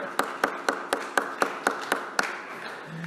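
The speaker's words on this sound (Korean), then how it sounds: "박수 한번 쳐드리시죠" Members of a Korean church congregation clap for a deacon's debut at a Sunday service, a steady run of crisp claps about a quarter second apart over a soft room hum.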